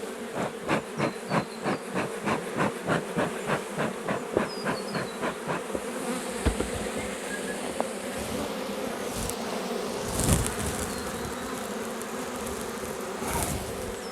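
Honey bee swarm from a swarm catch buzzing around its hive, a dense steady drone near and loud, with rhythmic pulsing at the start and occasional closer passes by individual bees.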